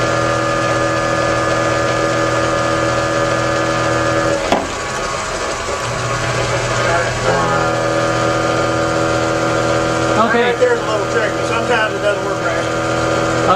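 A motor on a so-called fuelless generator runs steadily with a constant humming drone throughout, while people talk over it and a few knocks and handling noises are heard.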